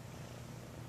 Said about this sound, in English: Do you hear purring?